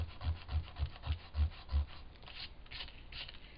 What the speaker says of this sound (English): It's a mono sand eraser, and that usually takes off the bulk of the problems I have.